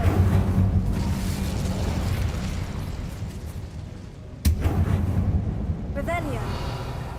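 Incendio fire spell blast in Hogwarts Legacy: a roaring burst of flame with rumbling booms under dense game action, then one sharp impact near the middle followed by further rumbling, loud and close, with a voice speaking over it.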